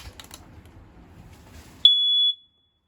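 Quiet rustling is followed by a single loud, piercing smoke alarm beep inside a 2019 Clipper 17FQ travel trailer, holding for about half a second, then silence.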